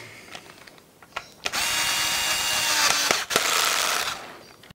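A power tool snugs a nut onto the speed control unit of a Watersnake DR bow-mount electric trolling motor, a steady loud whirring run of about two seconds preceded by small clicks and ended by a sharp knock.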